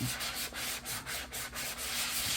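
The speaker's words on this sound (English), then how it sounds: "So I have a sanding block." Rapid, rhythmic scratching of a sanding block rubbing on wood, close and steady, with back-and-forth strokes and no speech.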